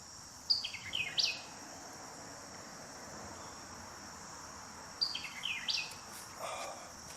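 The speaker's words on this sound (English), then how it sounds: "I'd rather it be just quiet and have these birds singing." Songbirds calling in woodland at a hike-in day camp, two short bursts of bright chirping phrases several seconds apart, fairly distant over a quiet background with faint insect buzz.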